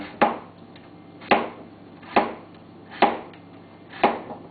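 A knife slices green papaya into thin pieces about 6 mm thick, making five sharp chopping strikes on a board at a steady rhythm of roughly one per second, close and clear with no talk.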